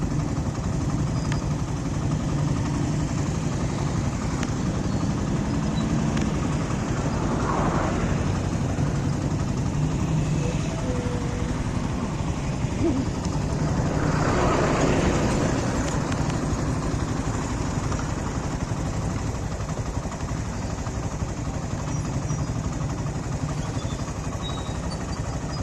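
Motorcycles of every kind idle at a bike rally, from 70 cc bikes up to heavy machines. A continuous distant engine drone hums steadily, with faint swells now and then.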